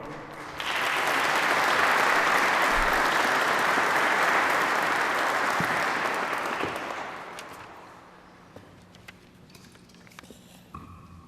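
Loud, sustained audience applause fills a church hall at a public safety award ceremony for a city fire division, holding steady for several seconds before fading to scattered claps and quiet room sounds.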